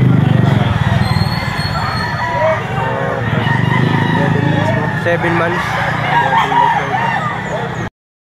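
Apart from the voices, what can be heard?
rooster crowing at a poultry auction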